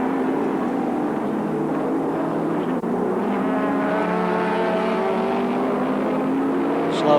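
Group C touring race cars at Sandown Raceway in 1984, including a big green Ford Falcon, roar past with a steady, loud engine drone that shifts pitch as they pass, under continuous commentary.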